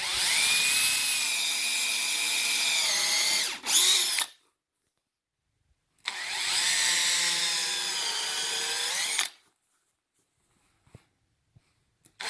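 Power drill bit boring through a rubber Scoot Boot hoof boot: two loud, sustained high whines of about four and three seconds, each ending abruptly, separated by silence, with a faint knock near the end.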